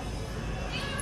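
A pet cat in a home gives a short meow, heard briefly against background room noise.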